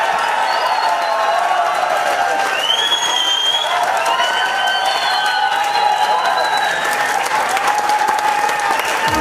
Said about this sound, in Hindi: और उनके लिए ताली बजाना है तो दिल से बजा लो